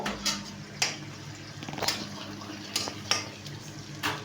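Ginger paste, about two spoonfuls, fried and stirred in a pan with cardamom for chicken biryani: a soft, continuous sizzle broken by repeated sharp scrapes and taps of a spoon against the pan, close and without talk.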